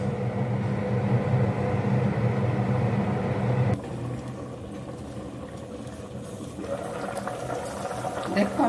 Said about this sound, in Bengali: দেখো আমাদের অলরেডি বলক চলে এসেছে।